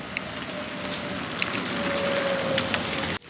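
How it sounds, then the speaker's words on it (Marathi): Rain falls steadily on the mountain trail up Brahmagiri, a continuous hiss of drops at moderate level with a faint tonal hum underneath, ending in an abrupt cut. "पाऊस सुरू आहे"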